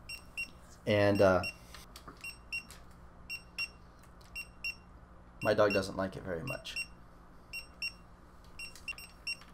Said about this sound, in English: Now he's looking everywhere for the beeping beacons.